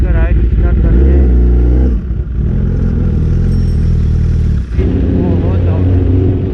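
A superbike's loud engine rumbles and revs at the start of an early-morning ride during a Durga Puja tour, with a heavy low-pitched drone throughout and brief dips in the noise.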